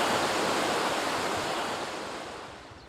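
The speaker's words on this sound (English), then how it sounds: "he's opened that ground paddle there to let the water through, so it is taking a very, very long time to fill this lock" Water rushes steadily through an opened ground paddle into a canal lock on the Rufford Branch as a narrowboat waits, a broad, even roar that fades slightly toward the end.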